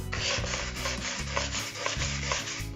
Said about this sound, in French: Une fois que la peinture est sèche, on va poncer